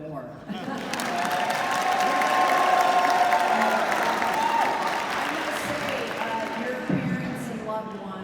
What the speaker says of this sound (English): I feel like the applause that you all got, I need a little bit more